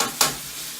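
Raisins stirred in hot oil in a pan for Afghani pulao, a steady close sizzle with one sharp scrape of the spoon partway through, no voices.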